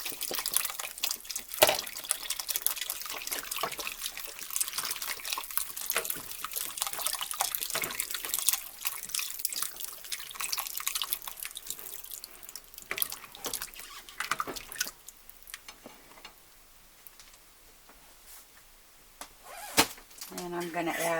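Water pours and splashes into a pot for a long stretch, close and steady, easing to softer drips near the end before splashing again.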